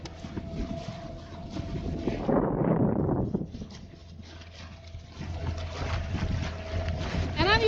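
A homemade wooden mini electric boat speeding along a river, a fairly faint motor whine with water rush and wind buffeting that swells loudest midway, then continues steadily, with a person talking nearby.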